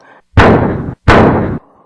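Two loud, booming pistol shots about three-quarters of a second apart, each with a long echoing tail, close and powerful.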